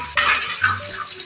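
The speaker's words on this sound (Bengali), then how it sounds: "ডিমটা ভেঙে আমরা ভালো করে ঝুরঝুরে করে নেব। একটু ভাজা ভাজা হবে, আমরা অনবরত নাড়তে থাকবো।" Egg stirred and fried in hot oil in a wok while it cooks for fried rice, a steady bright sizzle with scraping stir strokes and light metallic clinks, close and alone without talk.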